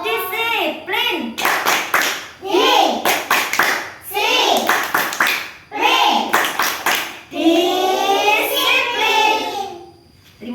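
Kids perform the 'tepuk disiplin' classroom clapping game, crisp claps struck in short rhythmic clusters alternating with shouted chant lines, close up and energetic.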